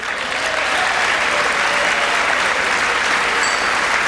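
Sustained loud applause from a large audience during a presidential State of the Union address, a dense steady wash of clapping with faint crowd murmur throughout.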